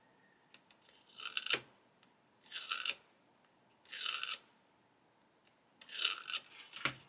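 A Funtec scriber tool drawn along a strip of scribing tape, making four separate rasping scratches, each lasting about a second, with short pauses between them. The scratches are close and fairly quiet, and no one speaks.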